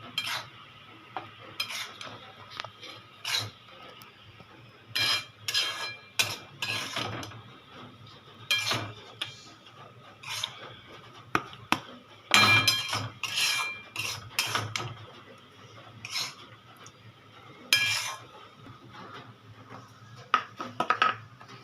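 Repeated scraping and clinking of a metal spoon against a pan as roasted semolina is scooped out, in irregular bursts with quiet gaps.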